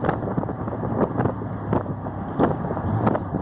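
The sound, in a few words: 1970 Triumph TR6 car driving after braking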